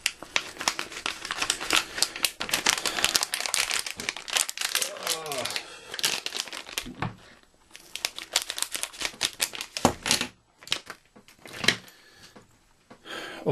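Scissors snip and rip through a mail package from a Chinese shop, a busy run of sharp crinkling cuts and plastic rustles up close, with brief pauses between bursts and someone talking at times.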